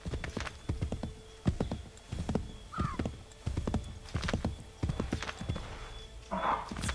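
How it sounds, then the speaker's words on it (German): Rhythmic hoofbeats pound steadily in quick repeated bursts as a horse gallops in Assassin's Creed III, with a brief whinny partway through and another near the end. "Reit halt weiter, du dämliches Pferd."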